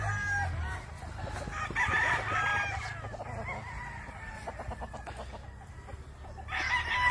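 Fighting roosters on a farm in Claveria, Misamis Oriental, Philippines crow and cluck at a middle distance, several birds calling over one another with steady background murmur.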